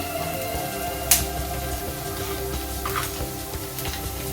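Curry leaves and paste fry in a pan as they are stirred, giving a steady, moderate sizzle with a humming tone beneath it and one sharp utensil clack near the start.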